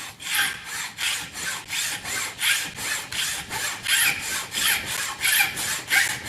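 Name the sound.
hand saw sawing through rings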